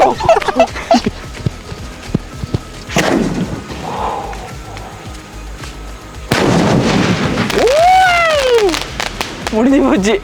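Several sharp booming sky shot firework bursts and crackles, with a rising whistle, amid excited voices shouting nearby during Diwali.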